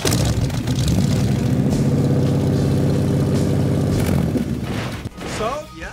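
A classic car's engine runs steadily at a Kansas car show, a loud, even low rumble lasting about four seconds before it cuts off, with crowd voices around it.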